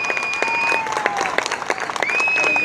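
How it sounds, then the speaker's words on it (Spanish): An audience claps for a short burst, a crowded patter of hands while a high steady tone rings through and then fades. Near the end the clapping thins and that tone returns. "que le demos un aplauso fuerte a Nelson."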